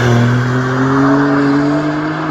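A BMW G82 M4 CSL at speed on the Nürburgring, its engine holding a loud, steady high-revving tone that climbs slightly in pitch as it pulls through a gear, heard alone without talk.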